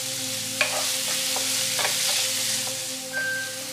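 Mushrooms sauté in a hot pan with a steady, close sizzle, and the spoon knocks and stirs through it now and then. No one speaks.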